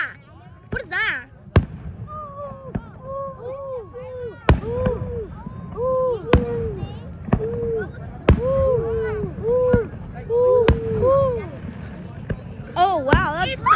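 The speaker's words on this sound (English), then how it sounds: "Oh wow, that's a firework!" Fourth of July fireworks explode in a series of sharp, booming bangs roughly every second or two, loud and near, while a person talks excitedly throughout.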